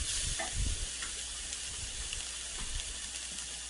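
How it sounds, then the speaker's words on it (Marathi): Chicken frying in hot oil for a gravy, a steady close sizzle and hiss with occasional soft stirring knocks, continuous throughout without speech. "त्याला छान तेलामध्ये फ्राय करून घ्यायचं."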